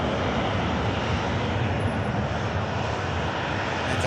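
A Hainan Airlines jet climbs away on departure with its gear retracting, a loud, steady broadband engine roar filling the whole stretch without a break.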